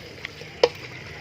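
Pieces of cut chicken dropped into a hot pan of fragrant curry paste, with a soft tap and then a sharper clack against the pan over a faint steady sizzle.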